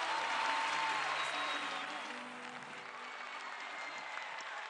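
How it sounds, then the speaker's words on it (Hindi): Audience at a Hindi TV singing competition claps, the applause loud at first and then easing to a lower sustained level, with a voice and faint tonal sounds beneath. "जोरदार तालियां के लिए"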